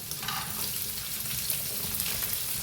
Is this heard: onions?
yes